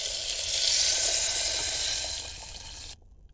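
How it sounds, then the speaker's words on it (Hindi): Two glasses of water go into a pan holding peas, chopped carrot and tomato for Maggi noodles, giving a loud hissing sizzle with a splashy pour that cuts off near the end. "इसमें डाल लूँगी 2 गिलास पानी।"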